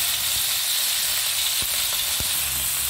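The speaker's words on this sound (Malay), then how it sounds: "Ini cabai merah yang udah dihaluskan kita goreng" Ground red chili paste frying in a pan, a loud, continuous sizzle and hiss with a few clinks of stirring close by.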